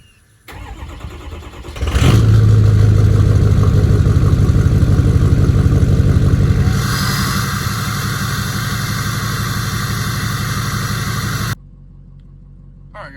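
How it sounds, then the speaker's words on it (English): A 2006 Ford F-250 with the 6.0 Powerstroke diesel cranks briefly and fires on a cold start, then settles into a loud, steady clattering idle that drops slightly in pitch before cutting off abruptly near the end. "But first, I'm gonna give y'all a little cold start here."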